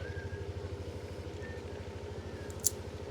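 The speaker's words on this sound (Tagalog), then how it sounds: "Pababa ko ang motor." A motorcycle is ridden downhill on a road ride, its engine a low, steady pulsing rumble, fairly quiet and near, with a brief sharp click partway through.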